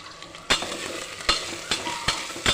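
Tomatoes sizzle and fry in a pan for vegetable pulao, with a steady hiss broken by a few sharp stirring scrapes of a spoon against the pan.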